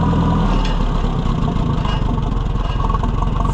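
Oliver 550 tractor engine idling after a tune-up, a close, continuous low chugging rumble with a steady loping rhythm and no talk.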